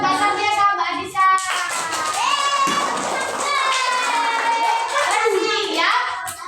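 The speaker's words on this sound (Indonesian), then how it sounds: "Ayo tepuk tangan buat Mbak Sabia sama Mbak Adisa." Children in a read-aloud reading session clap their hands in a scattered burst, mixed with lively young voices chattering and singing over the clapping nearby.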